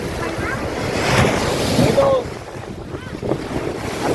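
Ocean waves wash ashore at a beach in Rameswaram, a steady rolling surf rush mixed with wind buffeting the microphone and faint voices in the distance.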